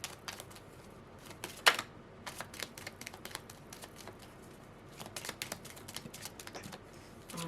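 Tarot cards being shuffled by hand give quiet, close, irregular riffling clicks and soft snaps in scattered clusters, with one sharper snap early on and no talking.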